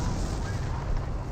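A rocket artillery barrage in Company of Heroes, heard as a brief, dense rumble of overlapping booms and crackling blasts, continuous and fairly loud.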